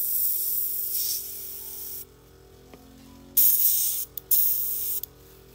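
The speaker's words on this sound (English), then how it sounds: "And then we'll spray." A miniature-painting airbrush sprays cleaner in bursts, a loud close airy hiss that stops, then returns in short spurts and a longer blast, with a faint compressor hum underneath.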